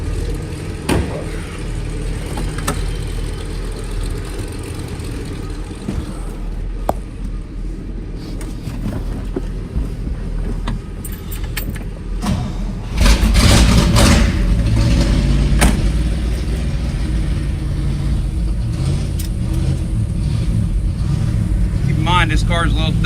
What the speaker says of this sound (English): cold start video on a 1961 red black 230 horse Corvette